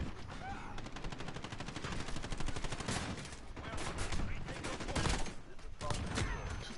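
Sustained automatic fire in Call of Duty: a dense, rapid stream of loud shots runs almost without a break for several seconds, with bursts swelling and easing, close and dominant.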